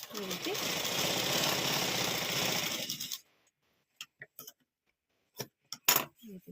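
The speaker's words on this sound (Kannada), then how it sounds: "ಇವಾಗ ಇದನ್ನು ಸ್ಟಿಚ್ ಮಾಡ್ಕೊಂಬಿಡೋಣ" Sewing machine stitching folded old cloth, running in a steady fast mechanical rattle for about three seconds, then stopping, followed by a few sparse clicks and handling taps.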